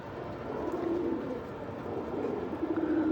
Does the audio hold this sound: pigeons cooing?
yes